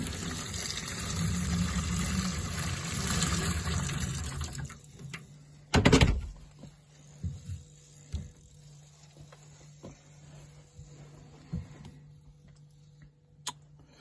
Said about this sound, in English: pour boiling hot water over it.